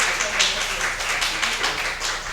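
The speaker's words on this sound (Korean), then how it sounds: "박수 10번 치고 들어갑시다." Children and teachers at an elementary Sunday school service clap together, a loose patter of hands with voices talking underneath.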